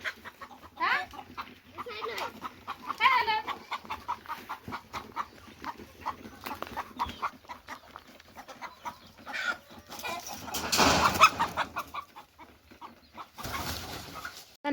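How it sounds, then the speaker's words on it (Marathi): Free-range village chickens, a rooster and hens, cluck in repeated bursts on a farm, with voices talking over the birds throughout. "आता एक कोंबडा धरते मी, पण तो बघा हाती लागाना."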